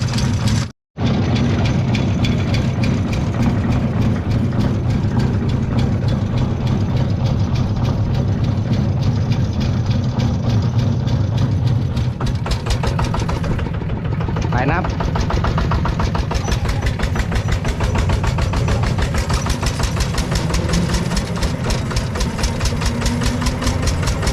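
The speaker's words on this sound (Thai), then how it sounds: "นี่นะเดี๋ยวขอเอาอีกครั้งนะครับผมคลิปนี้ให้ดูยาวๆเดี๋ยวผมจะออกตัวเกียร์สองไปเลยนะครับ" A ZT 180 engine runs loud and close with a deep, rough, knocking rumble as it pulls away in second gear, holding a steady throb throughout while someone talks over it.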